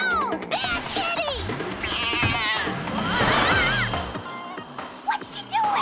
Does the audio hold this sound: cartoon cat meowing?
yes